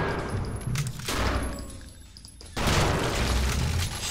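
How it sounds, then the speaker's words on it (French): Grenade explosion and gunfire from the Brutal Wolfenstein mod for PC, a loud dense burst of shots and blasts, a short quieter lull, then another heavy volley of gunfire filling the rest. "Ah, il m'a jeté une grenade"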